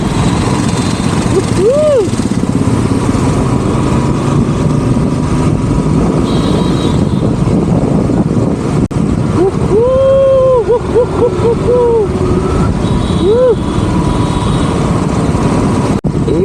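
A motorcycle engine hums under constant wind buffeting while riding through Hyderabad city traffic, with a few short horn-like tones nearby; a voice talks over it.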